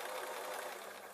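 A sewing machine runs steadily while stitching the seam of a small drawstring storage bag, giving a continuous, even whirring drone that holds for the whole stretch with no speech.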